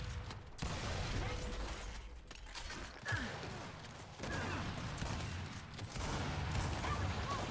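Dense bursts of gunfire and mechanical clatter from a ranked Control match in the video game Gears 5, continuous and loud throughout.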